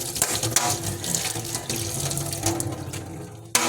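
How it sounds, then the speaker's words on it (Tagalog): Tap water runs steadily into a bucket, a continuous rushing splash that fills the whole stretch at moderate loudness, with a brief sharper knock near the end. "Puno ning balde wala pa ni nasaluran ang balde di ay."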